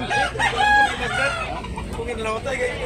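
A rooster crows loudly and close by at a gamefowl sale in Talisay, Tabunok. One drawn-out call rises and falls, followed by some clucking and faint background chatter.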